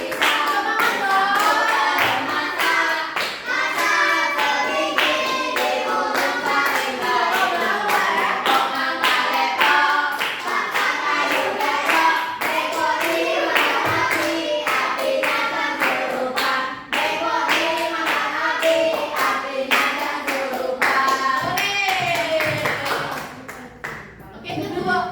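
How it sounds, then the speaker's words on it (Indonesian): A class claps hands in steady rhythm along to a sung classroom song, the dense even claps running throughout under the children's singing voices. "Oke, sambil tepuk tangan ya."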